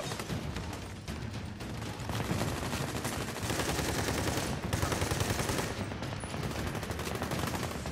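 Sustained automatic gunfire during a shootout in Army of Two: The Devil's Cartel, dense rapid bursts layered from several weapons, continuous and loud throughout.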